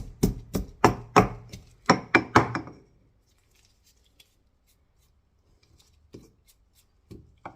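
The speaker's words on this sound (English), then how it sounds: "Pimento and garlic. Crush them in here." Pimento and garlic are crushed in a burst of about eight sharp, close pounding knocks, then quiet with a couple of faint taps afterward.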